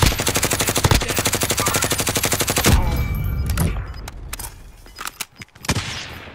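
Rapid automatic gunfire in Call of Duty Warzone, a loud fast burst of evenly spaced shots for nearly three seconds, then scattered single shots and impacts further off.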